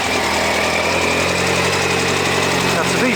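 A Yamaha FZ1-N motorcycle idles steadily on its stock exhaust can, a close, continuous low engine rumble with a fairly even throb for about three seconds.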